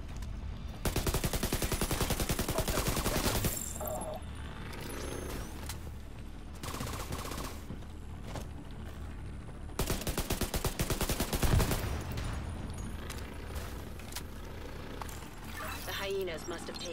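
Gunfire from a shotgun and other weapons rings out in The Division 2 video game as loud, dense, rapid bursts with short pauses between them, and voices talk underneath.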